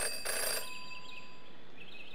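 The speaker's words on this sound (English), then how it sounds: "In her short time as a detective, Jenny had learned never to ignore a ringing phone." Telephone ringing in the video game Jenny LeClue, a single electronic ring with bright, steady tones that cuts off quickly and leaves a faint fading tone, heard close and alone.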